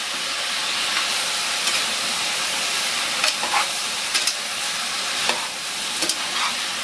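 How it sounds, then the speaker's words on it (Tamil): Vegetables for aviyal being sautéed in a pan give a constant close sizzle and hiss, broken by scattered scraping stirs of a utensil against the pan, with no talking. "அதையும் போட்டு நல்லா ஒரு வழக்கு வதக்கி"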